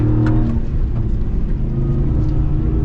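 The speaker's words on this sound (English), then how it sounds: "We literally are spinning all four wheels" Custom Ram TRX pickup truck spinning all four wheels under heavy braking, a loud, steady low engine drone and rumble heard from inside the cab without a break.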